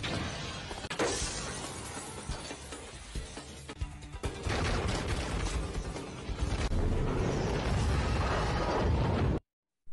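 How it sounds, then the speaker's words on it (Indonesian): Gunfire and crashing debris in a film shootout scene, a dense, loud barrage of shots, shattering and bursts filling nearly ten seconds before cutting abruptly to silence. "tiba-tiba ambasador dan kawan-kawan datang dan baku tembak pun tak terhindarkan"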